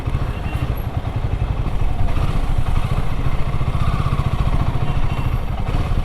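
A heavy 216 kg motorcycle churns through a traffic jam on a flood-damaged single-lane mountain road between Manali and Zanskar, its engine making a loud, steady, close-up rumble with rattling texture and no talk.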